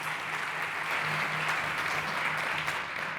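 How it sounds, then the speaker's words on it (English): An audience at a startup conference applauds a speaker taking the stage, a steady, moderately distant wash of clapping with a faint low hum running beneath it. "Big applause for Ana Villanueva."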